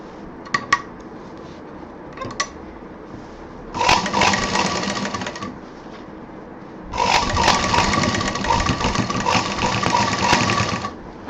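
A sewing machine stitches a handle onto a handbag in two bursts, one short run then a longer steady whirring stretch, with a few light clicks and handling sounds in the quieter gaps.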